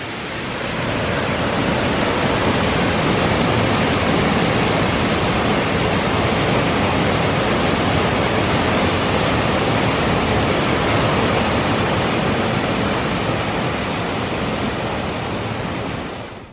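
Water roars over a river weir where the river and canal split, a loud, unbroken broadband rush that holds steady from start to finish with no voices.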